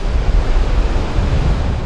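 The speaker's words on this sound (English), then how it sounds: "they pump it up, I think as much as 17 feet above canal level, and then it cascades down over the 5-foot waterfalls" Canal water pumped up and cascading down over 5-foot aeration waterfalls at an outdoor station, a loud, continuous broadband rush close to the microphone, wind-buffeted and unbroken.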